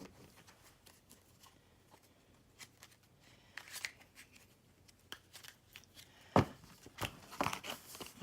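Tarot cards are shuffled by hand, quiet papery riffles and taps that grow busier toward the end with one sharp snap, close and soft with no talk.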